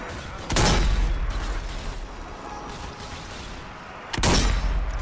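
Gunfire from Zombie Army 4: Dead War on PS5 as players shoot at zombie hands, two loud broadband blasts about three and a half seconds apart over a steady background of game noise.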